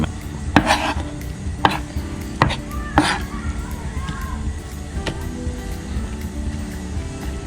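A knife chops down on a board several times at uneven intervals through raw lean beef, with quieter scraping and slicing in between, close up.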